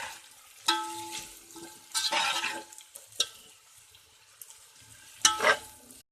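Raw chicken goes into a pan of frying potatoes, followed by a spoon stirring: soft sizzling broken by several sharp scraping and clattering bursts, close up with no talk.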